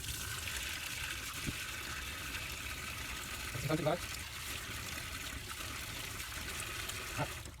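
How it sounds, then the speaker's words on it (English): Hands are washed under running water, which makes a soft, steady trickle and splash that stays fairly faint and continuous, with a brief louder splash midway. "it's more important that I wash my hands"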